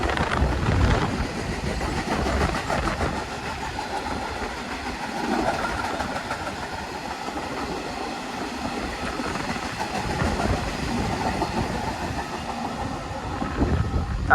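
Class 66 freight locomotive 66169 rolls past on the slow line at East Midlands Parkway station, a steady close rumble of engine and wagons with faint clickety-clack, continuous for the whole stretch.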